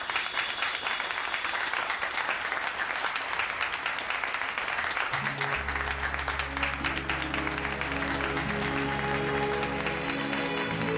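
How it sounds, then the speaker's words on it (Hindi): Applause at a wedding gathering in a Hindi TV serial, dense clapping filling the whole stretch at steady loudness, with a low musical drone entering partway through. "तालियां तो बजाओ।"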